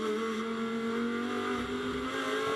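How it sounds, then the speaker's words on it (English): An Audi GT race car engine wails steadily through turn 6 at the Misano circuit during a Fanatec GT2 European Series race, a continuous high-pitched drone heard alone. "That distinctive wail from the Audi engine as he goes now through turn 6 up to the end of the first sector."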